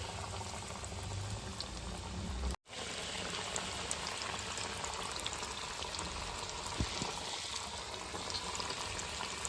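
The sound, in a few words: coated chicken fingers deep frying in oil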